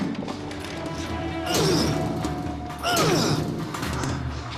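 A door locked from behind being forced, with two heavy thuds and crashes about a second and a half apart, loud and close, over a steady background.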